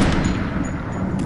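Rapid gunfire from a playground shooting game, a dense, continuous burst of shots at steady loudness throughout.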